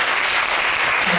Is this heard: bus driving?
no